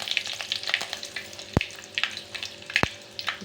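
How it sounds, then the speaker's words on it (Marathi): Mustard seeds and curry leaves hit hot oil and sizzle steadily up close, with a couple of sharp crackling pops standing out over the frying hiss. "आपलं तेल गरम झालेलं आहे त्याच्यामध्ये मोहरी कढीपत्ता"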